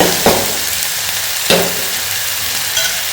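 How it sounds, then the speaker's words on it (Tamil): Small onions, a little tomato, curry leaves and a green chili fry in hot oil with a steady, loud sizzle, broken by a couple of sharp spatters or stirs. "கொஞ்சம் வெங்காயம் வேகட்டு"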